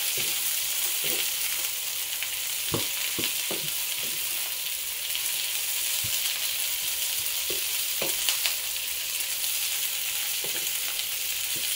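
String beans sizzling and frying in oil in a pan for adobo, a steady loud crackle with occasional sharper pops and stirring clatter throughout.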